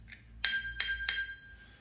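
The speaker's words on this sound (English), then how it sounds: "So she's got a bell too" Three quick bright rings of the bicycle bell on a girl's Viera 40cm vintage cruiser bike, close and clear with a short ringing decay, after a faint tap.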